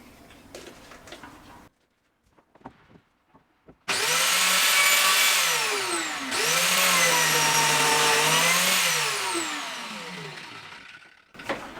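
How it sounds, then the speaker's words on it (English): A power tool cuts a slot into a solid hardwood kitchen worktop made from old school desks. It gives two long, loud whining passes with a bending pitch, and quiet knocks and handling noises come before them. "So I just need to cut the corresponding slot into the other piece of worktop going the other way"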